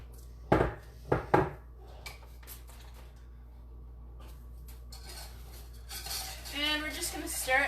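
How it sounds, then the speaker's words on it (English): A spoon clanks three times against a cooking pot while maple playdough is stirred, followed by softer scraping and rustling that builds toward the end. "And we're just going to stir it while we're cooking."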